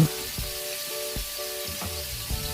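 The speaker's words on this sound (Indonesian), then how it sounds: "ini kita goreng menggunakan api besar, minyak panas" Tofu bubbling in hot oil over a high flame, with a steady close crackling sizzle and a few soft thumps and clinks of a utensil in the pan.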